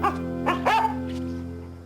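A dog barks in a Polish spooky audio story, giving a few quick, close barks and yips in the first second before fading into quiet.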